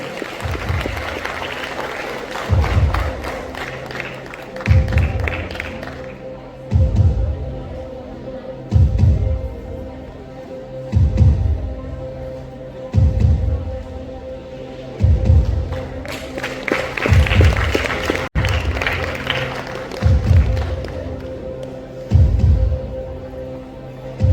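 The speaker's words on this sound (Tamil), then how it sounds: "எங்கே உங்களது கனத்த கரகோஷங்கள் வாழ்கிறது." Audience applause breaks out at a Tamil singing award ceremony, swelling in two louder bursts over a steady, rhythmic musical beat that thumps about every two seconds.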